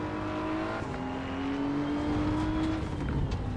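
Race car engine in Assetto Corsa EVO on the Nürburgring, a sustained loud drone with a rising harmonic whine as the car powers out of a corner, continuous and close throughout.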